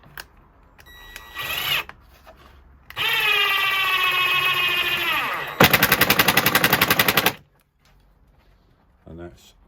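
A Ryobi R18IW3 cordless impact driver spins up, then hammers in a rapid rattling burst as it drives a screw through phenolic ply, loud and close, with short motor whirs before and a brief voice at the end.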